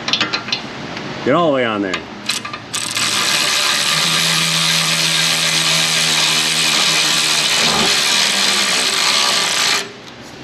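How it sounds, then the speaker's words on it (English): Ratchet driving a 15mm wobble socket under a 2016 Chevy Tahoe during transmission work, a close loud mechanical whir with rising tonal whine, brief clicks at the start and a speaking voice near the beginning. "wobbly socket, 15mm in action"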